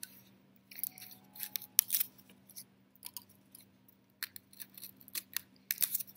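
Scissors snipping through craft paper in quick irregular bursts of crisp cuts, close and fairly quiet, with a steady low hum underneath and no talking.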